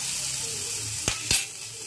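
Chopped cucumber pieces are stirred in a hot pan over a steady sizzle, with two brief scraping knocks of the spoon against the pan close by.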